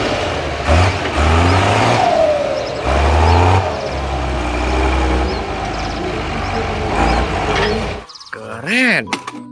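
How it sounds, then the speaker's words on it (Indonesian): A monster truck engine revs loudly in repeated rising and falling surges against constant background noise, then gives way to a brief whining tone near the end. "Wow, monster truk teman-teman."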